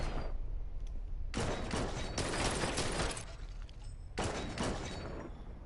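Gunfire from the Blue Estate video game: loud, dense bursts of rapid shots, two long volleys with a shorter one after, over a steady background of game noise and no talk.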